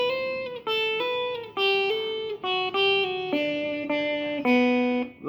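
An acoustic-style guitar plays a chord riff with hammer-ons, a repeating pattern of ringing notes and quick pitch steps, strummed phrases separated by short breaks, close and clear with no voices.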